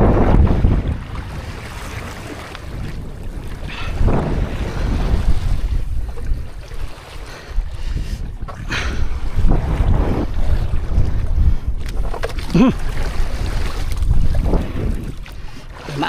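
Wind roars around a small fishing boat on a rough sea, carried on a strong and steady rush of wind noise with surging swells and sloshing water close to the microphone, and no voices.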